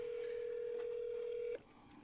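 A telephone line gives a steady, unbroken dial tone for about a second and a half before it cuts off abruptly, leaving a faint hiss.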